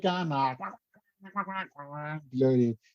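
A person imitates duck quacking, making a series of nasal, voiced quacks in short bursts with brief pauses, close to the microphone.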